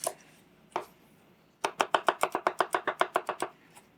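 A knife dices peppers on a cutting board, seeds and woody bits removed, in a quick run of about fourteen crisp, evenly spaced chops after two lone strikes, close and clear with no talk.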